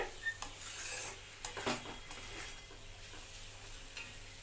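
Mung dal dry-frying in a pan, giving a faint, soft sizzle with occasional scrapes and clinks of a spoon against the pan, heard close and without speech.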